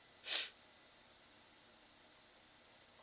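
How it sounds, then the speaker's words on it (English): One short, sharp sneeze bursts out close to the microphone, then a long stretch of quiet room hiss follows with no talking. "I sneezed when I was getting ready to say what I wanted to say"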